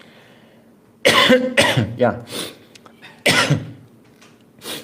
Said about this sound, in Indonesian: Ini saya masih batuk-batuk, saudara.